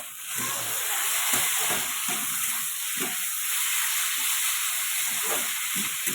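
Chopped onion, potato and green chili fry in oil in a pan, giving a steady, close sizzling hiss throughout with occasional soft stirring scrapes and no talking.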